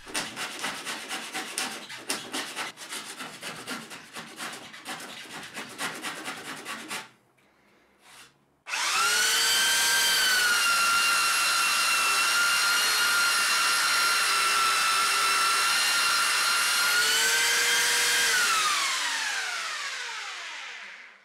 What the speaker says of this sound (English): I used a surform to get it flat, followed by a belt sander